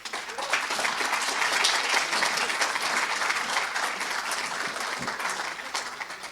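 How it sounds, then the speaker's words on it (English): Sustained audience applause from a crowd at a talk, steady and fairly distant, many hands clapping without pause and no speech over it. "I will ask you first for an applause."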